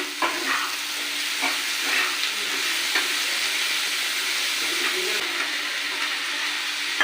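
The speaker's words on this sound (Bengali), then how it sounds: "বেশ ভালো করে এটা ভাজতে হবে।" Pumpkin pieces seasoned with salt and turmeric fry in a pan with a steady close sizzle, broken by intermittent scraping knocks as they are stirred and turned; no voices.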